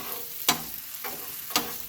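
Sloppy joe meat and tomato sizzling on a Blackstone griddle, a constant hiss broken by two sharp spatula scrapes as the mixture is stirred.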